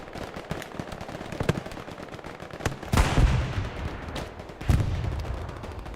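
Artillery and gunfire from the video game Hell Let Loose on a night Remagen map: a continuous crackle of rapid distant shots, broken by two heavier booming blasts partway through, with no voices.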